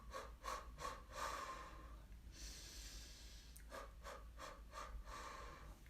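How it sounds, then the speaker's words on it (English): Patterned breathing of the kind used to cope with labor contractions: short rhythmic breaths in quick bursts, a longer exhale in the middle, then another run of quick puffs, close and fairly soft. "You can also do patterned breath,"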